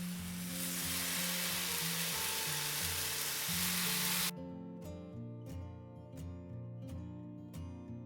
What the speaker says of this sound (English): Now we're going to add the bacon.